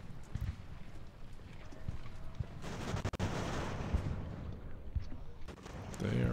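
Artillery batteries firing in Ultimate General: American Revolution, a few dull booms among a busy battlefield din of muffled shots and hoof-like clatter, moderately loud throughout.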